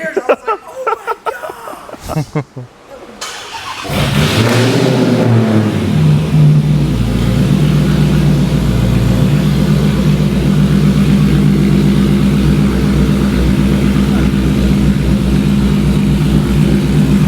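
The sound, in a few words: loud Hellcat Magnum car engine revving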